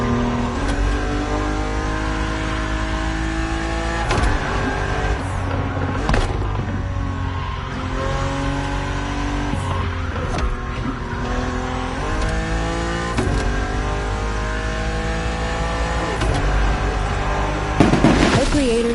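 A BMW racing along open roads in The Crew Motorfest, its engine revving up and down through gear changes with tire squeal, loud and steady throughout, a voice talking over it at times.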